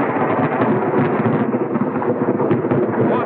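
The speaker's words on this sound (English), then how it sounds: "What an explosion! Thunder over Utah!" Massive ammonium nitrate blast at an open-pit copper mine in Utah, heard as a dense, sustained rumbling roar like rolling thunder, loud and unbroken throughout with no voices.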